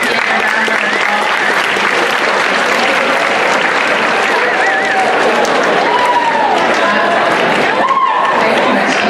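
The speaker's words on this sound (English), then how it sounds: "if you could please give our SGA a round of applause." A school assembly crowd applauds loudly and steadily for student government members, with cheering and chatter mixed into the sustained clapping.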